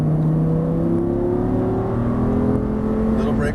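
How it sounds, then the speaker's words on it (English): Audi R8 engine revving hard as it accelerates on a Las Vegas race track, loud and close with rising harmonic tones, a voice speaking over the engine. "Now we'll accelerate back to the right again."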